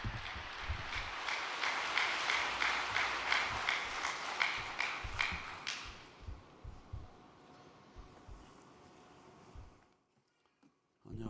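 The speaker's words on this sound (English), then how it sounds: "Let's welcome him with a big round of applause." A crowd at a devotional vigil gathering claps in sustained applause for about six seconds to welcome a speaker, then the clapping tapers into scattered shuffling and footsteps before a brief near-silence.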